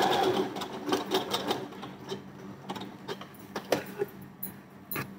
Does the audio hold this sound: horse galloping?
no